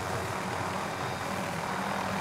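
The engine of a helicopter in a video game gives off a steady, dense broadband drone with no clear rhythm, loud and unbroken throughout.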